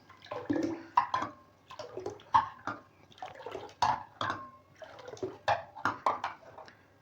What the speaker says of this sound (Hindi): कप के ज़रिए से अच्छे तरीके से मिक्स करता हूँ